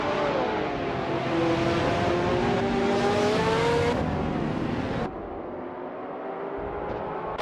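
Race cars in a game race at Bathurst, led by a 2004 Ferrari F360 GTC, as a loud, continuous engine roar that rises and shifts in pitch with each gear, then drops sharply and settles into a lower drone.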